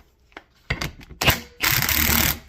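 A torque wrench tightens differential bolts to spec on a limited-slip differential for a turbo Integra build, giving a few sharp separated clicks and then a louder sustained ratcheting burst up close.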